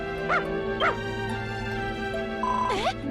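A retriever dog in the video game Dragon Quest Builders 2 gives three soft, yelping barks and whimpers, the last a rising, whiny yip, heard up close over a steady tonal game music bed.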